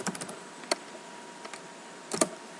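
Quiet, close computer keyboard typing comes as a few short bursts of light key clicks with gaps between them.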